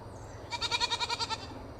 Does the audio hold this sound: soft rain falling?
no